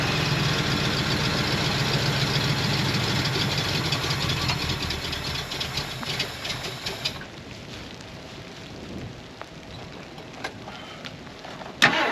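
A 1973 Ford F250 truck engine idles steadily and fairly loud at first, with a knocking mid-range rumble, then drops to a quieter, rougher idle partway through, ending with a brief clunk.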